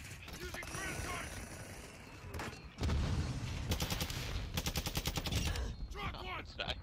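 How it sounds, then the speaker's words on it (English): Grenade guns fire in a military shooter video game: rapid, evenly spaced bursts of loud thumping shots run through the middle of the clip, with battle noise before and after. "Using grenade guns."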